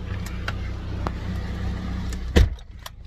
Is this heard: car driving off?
yes